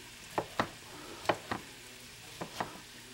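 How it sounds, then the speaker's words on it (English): A knife chops through onion in a handful of sharp, spaced strikes against a board, close and fairly quiet. "Now we're going to slice the onion, because all we're doing is chopping."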